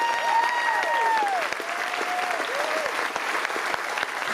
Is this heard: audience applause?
yes